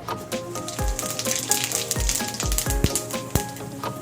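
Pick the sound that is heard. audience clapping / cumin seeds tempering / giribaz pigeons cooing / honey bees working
cumin seeds tempering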